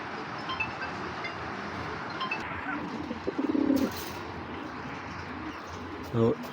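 A pair of Giribaz pigeons of the Perla line, one a large female, give a few short, soft coos in the middle and again near the end, over a steady hum of background noise.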